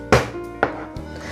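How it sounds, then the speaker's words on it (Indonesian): Spices and chillies, including large red chillies and bird's eye chillies, are smashed in a kitchen with three sharp, heavy thuds, each hit followed by a short ringing decay. "Saya geprek aja semua, jadi tidak ada yang saya ulek maupun saya blender"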